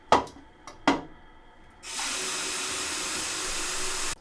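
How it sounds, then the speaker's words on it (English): Running tap water pours steadily into a sink, rinsing black and white film in a developing tank, a constant close hiss after a few short clatters. "Now we rinse the film in running water for 5 minutes."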